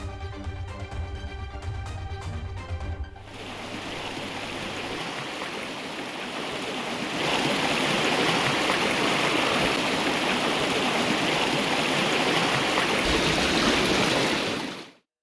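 Sanjamala Paleru stream in flood after heavy rain, a loud, continuous rushing roar of overflowing water that grows stronger midway, preceded by a few seconds of music.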